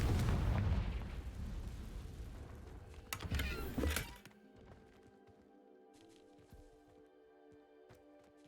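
A Confringo blasting spell explodes in Hogwarts Legacy, a loud, rumbling burst that decays over a few seconds into quieter game ambience and scattered small clicks.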